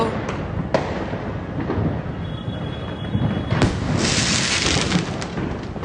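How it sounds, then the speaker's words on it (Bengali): Fireworks go off during a New Year celebration, with scattered booms and crackling bursts at varying distances over a constant roar of background noise, and a few voices faintly heard among them. "চারিদিকেই শুধু বাজি ফাটছে, মানুষের আনন্দ।"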